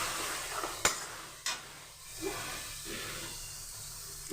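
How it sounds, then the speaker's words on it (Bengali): Onions and bay leaves frying in ghee or butter in a pan, a soft steady sizzle with a few sharp clinks of a utensil against the pan. "পেঁয়াজটা আমি ভালো করে একটু ভেজে নেব, আর দিয়ে দেবো হচ্ছে তেজপাতা।"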